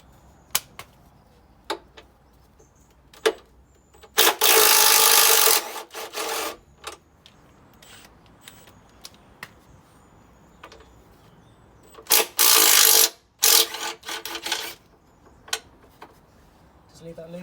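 A wrench works loose 15mm and 13mm bolts during a Ford Focus front teardown, with sharp metallic clicks and two bursts of rapid ratcheting, close by with quiet gaps between.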